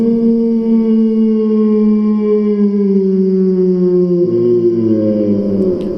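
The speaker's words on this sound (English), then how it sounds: "another large, dog-sounding creature howled" A large dog-like creature gives a long, loud, sustained howl that slides slowly downward in pitch, then drops to a lower, rougher tone near the end, steady and alone with no talk.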